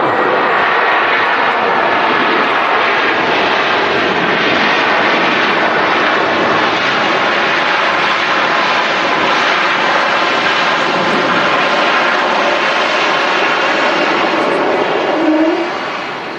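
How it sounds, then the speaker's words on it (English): Lufthansa Airbus A321 jet touching down at Manchester Airport, a loud, steady broadband engine roar holding for the whole stretch without a break. "There's Lufthansa A321 touching down."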